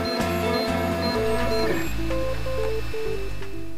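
A 3D printer runs at work, its stepper motors whining in continuous stepped tones that jump between pitches in quick, irregular sequences, loud and close with no voices.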